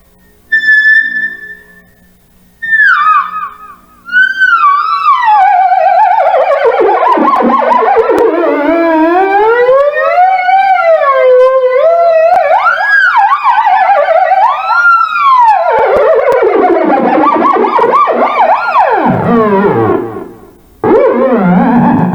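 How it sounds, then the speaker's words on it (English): A theremin with added electronic effects sweeps in wavering, gliding siren-like pitches, loud and continuous after a few short opening tones, with swooping warbles and dips near the end. "the theremin is just an electronic instrument using sound to create"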